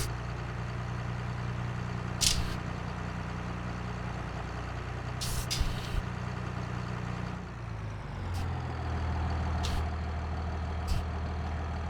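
A tractor engine idles in Farming Simulator 22, a steady low rumble with a pitch shift partway through and a few brief hissing bursts like air brakes, heard alone without talk.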